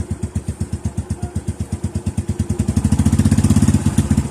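Suzuki Smash 115 motorcycle engine with a fault that makes it stall under throttle, chugging in a fast regular pulse that quickens and grows louder toward the end, close up with no voices.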